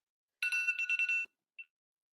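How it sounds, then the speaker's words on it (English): An electronic alarm chirps in a quick warbling burst for nearly a second, then stops, with one short beep following after a brief pause. "That's my alarm going off."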